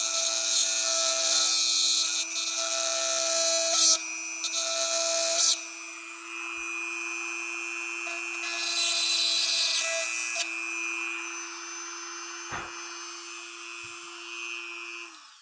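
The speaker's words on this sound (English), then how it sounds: "I'm going to try using a knurling bit on the Dremel instead of a drill bit." A Dremel rotary tool with a knurling bit whines steadily for the whole stretch, its grinding buzz rising and dipping as it bites into material, with no talking.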